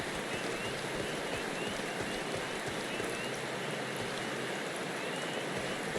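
Steady rain falls in the Final Fantasy XIV video game, a constant dense hiss of drops with no distinct events throughout, heard alone without speech.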